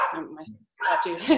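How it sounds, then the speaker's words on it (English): Dogs bark in the background of a home setting, short yapping bursts at moderate loudness mixed under a person's talking. "Apologize for the dogs in the background."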